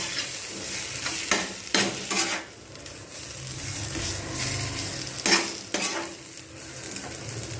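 Potato filling for aloo puri being stirred and dried out in a pan, with a spoon scraping in repeated strokes over a steady sizzle. Close, moderately loud, no talking.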